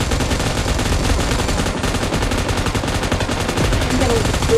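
Dense, continuous automatic gunfire from a mobile shooting video game, rapid bursts layered into a steady loud barrage with no pause across the whole stretch.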